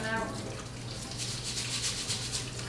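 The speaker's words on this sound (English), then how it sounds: "I just shake it around. See all that water coming out?" Rice is rinsed and shaken in water, giving a steady close sloshing and splashing with faint higher trickles.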